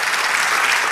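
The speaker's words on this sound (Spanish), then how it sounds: "Dale un aplauso al Señor." Dense applause from a church congregation during a sermon, a brief burst that stays steady throughout.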